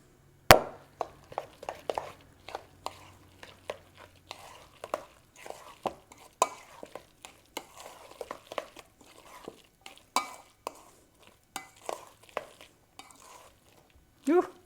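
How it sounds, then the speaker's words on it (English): Guacamole is mixed in a bowl, giving a run of uneven wet scraping and knocking strokes of a utensil against the bowl, close and fairly loud, with brief pauses between strokes. "And our guacamole is done once we mix this."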